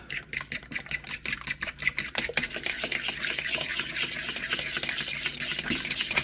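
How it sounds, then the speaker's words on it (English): Butter and eggs are mixed in a bowl with quick rhythmic clattering strokes, dense at first and then settling into a steadier whirring stir, close and fairly loud. "Mix the butter and eggs."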